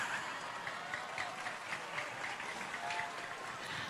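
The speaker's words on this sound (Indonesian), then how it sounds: "gitu dong, tepuk tangan kan percis di TK" Audience applause during a humorous Islamic sermon, a soft, continuous patter of many hands at moderate distance, fairly faint and steady throughout.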